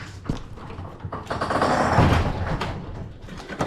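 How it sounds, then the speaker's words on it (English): A garage door fitted with a replacement spring rolls open, giving a sustained rumbling, rattling mechanical run that swells in the middle and eases off, with a few clunks at the start and end. "Okay, door. It's opening now."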